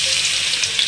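A dense, steady sizzle of ginger garlic paste frying in hot oil for a sardine curry, close up and continuous, with no voices.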